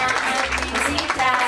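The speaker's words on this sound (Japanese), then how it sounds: "拍手。" A brief burst of audience applause at a junior freestyle competition, moderately loud clapping with voices mixed underneath.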